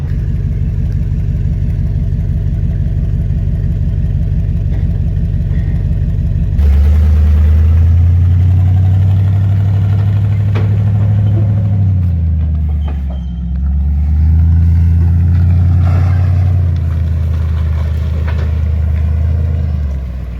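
A diesel truck engine that is misfiring slightly runs loud and close for the whole stretch. Its deep, steady rumble jumps up when the throttle is blipped, then the revs rise and fall a couple of times.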